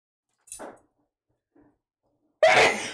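A single sharp sneeze bursts out near the end after a short quiet stretch, preceded by a faint breathy sound.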